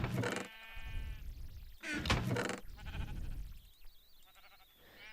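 Sheep on a Minecraft sheep farm bleat in a few separate calls, one near and loud, then more bleats overlapping, with soft knocking thuds between them.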